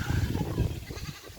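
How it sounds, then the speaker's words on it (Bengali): Goats tethered in rows along a roadside give a short bleat, close and moderately quiet, with no talking. "সুন্দর সুন্দর ছাগল"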